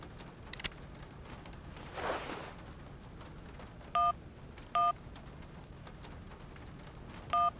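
Telephone dialing in the PC game Syberia (2002): three short, evenly spaced keypad tones sound clearly over soft background rain, preceded by a brief faint rumble of thunder.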